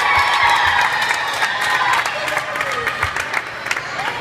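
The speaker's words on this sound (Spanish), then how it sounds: "Un fuerte aplauso." Outdoor crowd at a Christmas parade in a Guayaquil shopping mall applauds and cheers with whoops, a dense, steady roar of clapping and shouts under which voices are heard.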